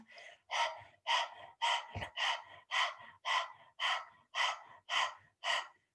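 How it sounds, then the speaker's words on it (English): Kundalini yoga breath of fire done as fast panting through an open mouth with the tongue out, about eleven sharp, even, breathy pulses at a steady rhythm, close and clear with no talking. "Let's begin breath of fire first with the tongue sticking out. So you're panting like a dog through the mouth."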